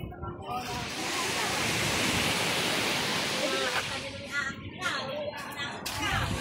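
Sea waves wash and hiss in a steady broad rush at Puerto Galera, fairly soft and continuous, with people chatting briefly over the surf.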